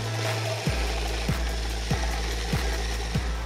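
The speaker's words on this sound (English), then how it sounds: "so I'm gonna continue drilling them out a little bigger." A drill runs steadily with a regular knocking every half second or so, enlarging holes in metal on a Miata chassis, a grinding mechanical rhythm close up with no voices.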